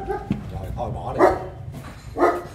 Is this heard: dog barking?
yes